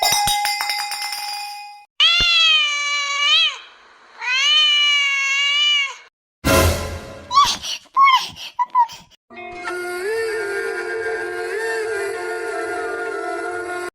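A person imitates a kitten, giving two long, drawn-out high meows one after the other, then short broken squeaky cries and a longer wavering call, loud and close with gaps of silence between.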